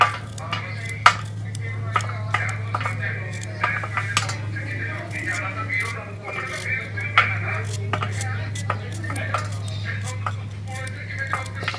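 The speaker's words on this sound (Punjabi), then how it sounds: "ਇਸ ਤਰ੍ਹਾਂ ਆਪਾਂ ਸਾਰੀਆਂ ਗਾਜਰਾਂ ਕੱਟ ਲਾਂਗੇ ਜੀ" A knife chops carrots on a cutting board in a home kitchen, a steady run of sharp close taps over a low constant hum, with occasional clinks of utensils.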